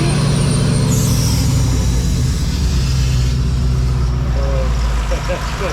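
A 1934 Ford fitted with a 6.2L LS four-valve overhead cam conversion idles with a loud, steady low rumble and hum right nearby, a brief whine near the start, while people speak over it.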